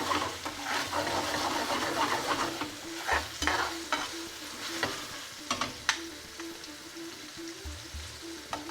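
Tofu tikka rezala curry sizzles steadily in a pan while the pan is rocked, sending scraping knocks and bursts of crackle through a close, continuous fry.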